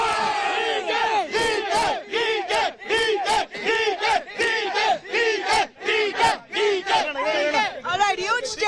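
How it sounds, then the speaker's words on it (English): Dense crowd at a Karnataka election result event cheering and chanting for the chief minister pick outside his house, loud rhythmic shouted bursts repeating steadily throughout, with voices packed close together. "huge cheer for DK Shivkumar as the Chief Minister"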